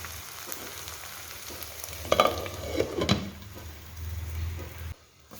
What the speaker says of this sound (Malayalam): തക്കാളിയൊക്കെ ഒന്ന് വെന്ത് കിട്ടാൻ വേണ്ടിയിട്ടാണ് മൂടി വെക്കുന്നത്.